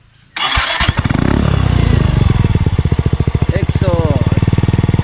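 Yamaha Mio Soul i 125 scooter fitted with a new REV exhaust starts up and settles into a loud, close, throbbing idle with a quick pulsing beat, while someone talks over the engine.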